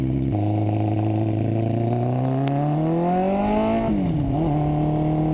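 A motorcycle engine idles roughly and threatens to stall, then revs up in a rising whine as the throttle is hit hard, dips and settles back into a steady running note, loud and close.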